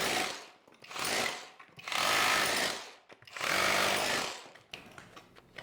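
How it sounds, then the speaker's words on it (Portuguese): A GENAI 21V cordless rotary hammer drills in four loud bursts of about a second each, separated by short pauses, followed by a few brief sputtering blips as it winds down. "Vou furar mais para ver."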